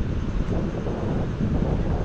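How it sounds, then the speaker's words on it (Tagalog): Strong wind blowing in from the sea buffets the microphone in a steady, rough roar, with a low surging rumble like sea waves beneath it; no voices. "yung hangin galing dagat oh"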